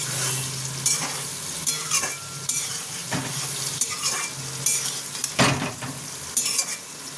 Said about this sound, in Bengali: আমি সিম করে এই কারণে করছি যে চিকেনটাও সেদ্ধ হয়ে যাবে আর ক্যাপসিকাম টমেটো এগুলোও সেদ্ধ হয়ে যাবে।